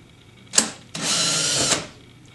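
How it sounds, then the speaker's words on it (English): Power driver running a wood hanger screw into a 1/4-inch pilot hole while installing a wire turnbuckle: a brief whir, a pause, then a sustained close, loud buzzing drive that winds down, with no talking. "the wood hanger screw down into the driver and get you ready to drive it into a 1/4-inch pilot hole."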